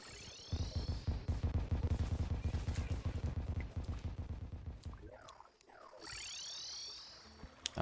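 A grenade launcher fires in rapid, evenly spaced bursts in the game Noita, a dense run of thuds lasting several seconds before it tails off into whooshing, sweeping effects.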